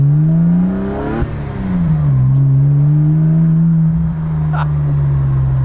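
Engine of a cheap, bodyless sports car built from a wrecked car, revving with the muffler removed: a loud, raw droning note that rises, dips and then holds steady, close by.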